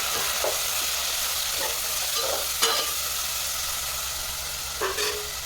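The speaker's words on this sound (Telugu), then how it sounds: "అది ఫ్రై అయిన తర్వాత టమాటాలు యాడ్ చేసుకోవాలి. యాడ్ చేసుకుని అటు ఇటు తిప్పుకోండి." Tomatoes sizzle and fry in a pan for a country chicken and drumstick curry, with a steady hiss broken by several scraping stirs of a spoon close by.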